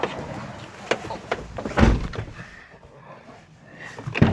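A door is handled and opened indoors, with scattered knocks and thuds, a louder clunk midway and another at the end, fairly close.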